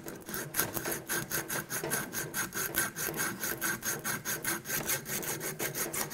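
Coarse grit sandpaper scrubbing a corroded aluminum engine coolant housing by hand, a fast steady rhythm of rasping back-and-forth strokes, close and continuous with no talk.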